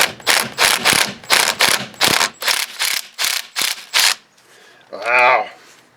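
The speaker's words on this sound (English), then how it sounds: "let's see what a rattle gun does" An impact wrench rattles against a seized brake bleeder screw during a brake job, hammering in about ten loud, close bursts over four seconds, then falls quiet before a brief voiced exclamation.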